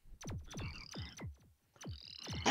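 Frogs croak in the Shell Shock video game, a series of loud, close, repeated guttural croaks in quick succession with a short pause before another burst.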